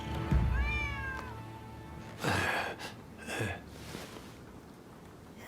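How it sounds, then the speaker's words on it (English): A stray cat in the video game Rise of the Ronin gives one clear, rising meow, followed by breathy sighs and gasps under a quiet ambient bed. "Who'd have thought a stray cat would wander in?"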